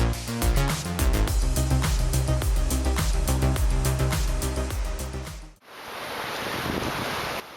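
Water rushes and splashes loudly as a fully loaded timber truck drives its wheels slowly into a river, a dense, continuous churning that dips briefly before surging on.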